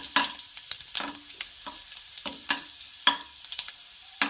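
Garlic sizzling as it is stirred into hot oil while preparing a Manchurian dish, with short scraping stirs and crackling bursts repeating at an irregular, fairly steady pace, close and alone.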